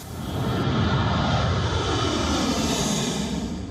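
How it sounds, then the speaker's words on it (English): A U.S. Air Force C-17 jet takes off amid a crowd at an airfield in Afghanistan, its engines producing a loud, continuous broadband roar that holds steady throughout with no speech. "A U.S. Air Force C-17 was seen taking off through the crowd."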